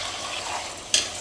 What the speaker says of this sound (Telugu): దీన్ని ఇప్పుడు బాగా కలుపుకుందామండి